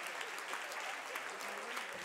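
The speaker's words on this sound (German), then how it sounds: "Der Applaus gebührte ihnen." An anniversary event audience applauds advisers standing on a large stage, producing a short stretch of continuous, even clapping from many people.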